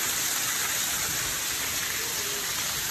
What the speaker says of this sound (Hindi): देखिए बाहर कितनी वो तेज़ बारिश हो रही है